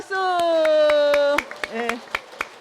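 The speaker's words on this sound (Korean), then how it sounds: "다시 한번 축하 박수." Scattered, spaced-out hand claps ring out at a Won Buddhist founding-day anniversary ceremony, first under a sustained sung or held tone, then more sparsely alongside brief voices.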